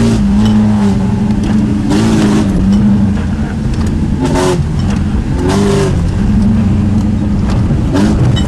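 A car engine revs hard as the driver accelerates on the road, loud and close, its pitch climbing and falling repeatedly through several throttle surges over steady road noise.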